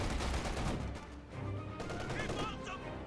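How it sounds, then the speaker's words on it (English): A machine gun in Company of Heroes 2 fires sustained bursts of automatic fire amid battlefield noise, and a voice talks briefly over the shooting near the end. "I'm unfortunately suppressed by this MG back here"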